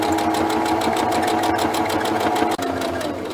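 A sewing machine stitches straight forward with the presser foot down, a fast, even rhythmic whirr of needle strokes close up and continuous, with a brief pause near the end.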